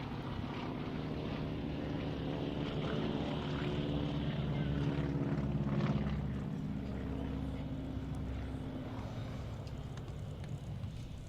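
An aerobatic airplane trailing smoke oil roars low over the ground at the Sun 'n Fun 2021 air show, then pulls up hard into an aileron roll. The loud, sustained propeller drone swells and fades slightly without any talk.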